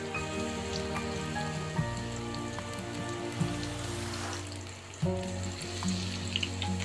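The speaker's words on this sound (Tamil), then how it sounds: "இப்போ ஒரு பக்கம் ஃப்ரை ஆனதும் திருப்பி போட்டுக்கலாம்." Battered oyster mushrooms deep fry in oil, giving a dense, continuous crackle and sizzle like heavy rain, with a few louder pops and shifts as pieces move.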